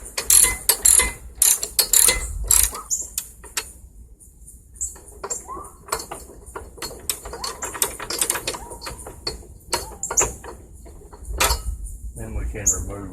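A ratchet wrench loosens a 10 mm locking nut on a John Deere LT155 mower, bursts of close, sharp clicking in quick runs separated by brief pauses and handling noises.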